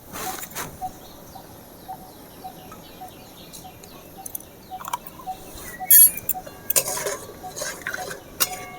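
Momo chutney being stirred after sugar, salt and vinegar are added, with soft scraping and clinks of a spoon against a pan or bowl at a steady slow pace, close by and moderately quiet, without talk.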